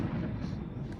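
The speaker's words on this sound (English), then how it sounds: "Is that fireworks or are we in the hood?" Fireworks going off at night in a town in Baja, heard as a continuous dense rumble of booms and crackles at moderate distance with no talk.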